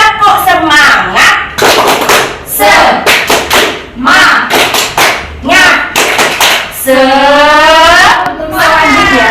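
A class performs the tepuk semangat clapping chant in a micro-teaching lesson, with rhythmic bursts of hand claps alternating with voices chanting the words, loud and close.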